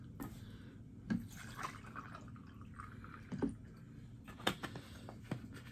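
Ice-cold reduced-fat milk poured into a glass, heard as soft liquid trickles with a few brief drips and clinks over a faint steady background, no talking.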